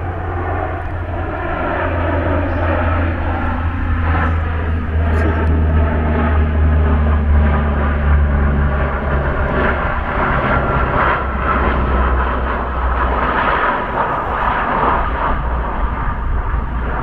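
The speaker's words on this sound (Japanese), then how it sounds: "飛行機が旋回してきてるよ。" A propeller airplane circles overhead, its steady engine drone holding loud and continuous with slow shifts in pitch as it banks, no voices over it.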